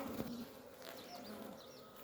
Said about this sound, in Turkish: Bunlar gelişmeyen arılar.